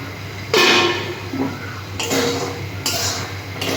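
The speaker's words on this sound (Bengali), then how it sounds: "এবার ঢাকাটা খুলে দেখি কত দূর হলো।" A lid comes off a cooking pot of bori and shrimp, with sharp metallic clanks and clinks at a few moments over a quiet background.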